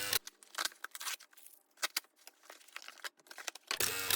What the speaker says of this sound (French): C'est parti pour le déballage.